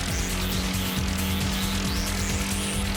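A race car lapping a track in the PS1 video game Gran Turismo, its engine a continuous buzzing drone that climbs and drops through repeated gear changes, loud and constant without pause.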